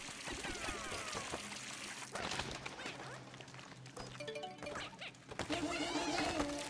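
Water running in the Pikmin 4 video game, a steady pouring wash that continues throughout under busy game sound effects and chimes.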